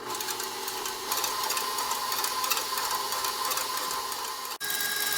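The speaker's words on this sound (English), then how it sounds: "Egg whites in, and we're going to get it start whipping." An electric mixer whips egg whites in a steady, even whir held for several seconds, close and fairly loud, with one very brief dropout near the end.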